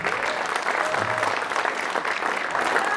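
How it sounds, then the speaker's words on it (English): An audience at a blues music awards ceremony applauds in a sustained, even wash of many clapping hands, loud and continuous from start to finish with faint crowd murmur beneath. "A round of applause for Charlie Bedford there."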